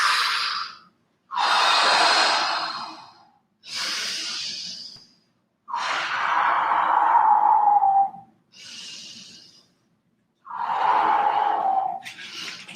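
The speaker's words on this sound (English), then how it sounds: "Breathing in." Slow, relaxed breaths drawn in during a mind-body breathing class: about six long, soft airy inhalations and exhalations separated by short pauses, close and quiet with nothing else heard.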